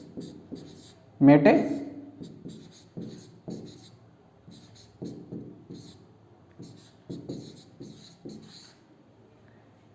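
A pen scratches across paper as notes are written by hand, a close series of short strokes and taps under a person talking.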